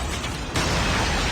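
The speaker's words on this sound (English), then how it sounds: "Predator missile inbound." A predator missile explodes in Call of Duty Mobile on the Scrapyard map: a loud, dense blast that swells sharply halfway through and keeps roaring, with no voices.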